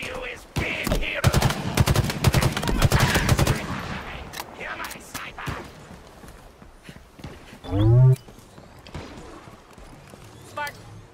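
Halo Infinite firefight with rapid weapon bursts clattering loudly for the first few seconds, then thinning to scattered shots, with voices talking over the combat.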